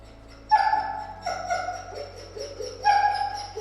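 An aggressive dog barks a few times close by: a sharp bark, then a couple of softer yips and another bark, with quiet gaps between.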